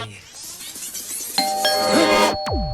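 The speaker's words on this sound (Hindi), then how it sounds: "अरे जब भी ये घंटी बजती है कोई ना कोई मुसीबत जरूर आती है।" A two-note doorbell chime rings out clearly over a soft background hum, followed by a quick falling swoosh.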